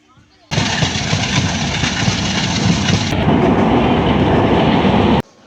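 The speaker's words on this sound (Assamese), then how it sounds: "এয়া এতিয়া আমি ট্ৰেইনৰ পৰা নামিছোঁহি" A train pulls into Amritsar railway station with a loud, steady rumble and rattle of wagons, with wheel clatter on the rails throughout; the noise cuts off abruptly.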